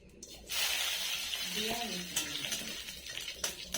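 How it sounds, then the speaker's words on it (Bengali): Five-spice seeds and dried red chillies sizzle in a little hot oil in a wok, giving a steady, fairly quiet hiss with occasional crackles while someone talks over it. "এবার এতে 5 ফোড়ন দিয়ে দিচ্ছি"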